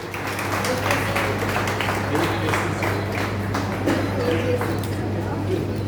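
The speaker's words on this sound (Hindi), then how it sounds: "उनका लेल जोरदार ताली एक बेर से हो" Audience applause at a stage ceremony welcoming an honoured guest: dense, steady clapping from a crowd that holds for several seconds over a low, constant hum, with voices mixed in.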